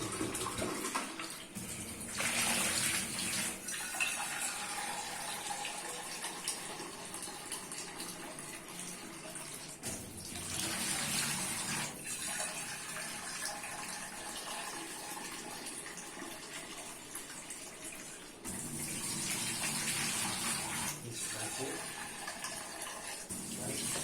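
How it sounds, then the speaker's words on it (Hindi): Cold tap water gushes steadily while beef trotters are rinsed for Pakistani paya, a continuous splashing stream that breaks off and restarts a few times, close and moderately quiet. "थोड़ा सा ठंडे पानी भी डाल दूंगा और साथ साथ धो दूंगा इसको अच्छे से।"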